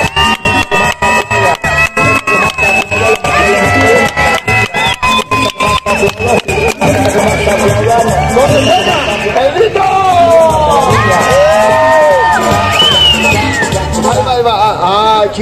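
A large crowd in the zócalo of Oaxaca's historic center cheers and shouts in a loud, continuous roar, with rapid rhythmic clapping early on and excited whoops throughout.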